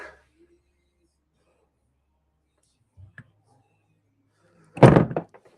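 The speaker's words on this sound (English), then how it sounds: "we knocked over a mold" A plastic-casting mold tips over with a loud clattering thump after near silence, followed by a few lighter rattles as it settles, with a faint tap a couple of seconds earlier.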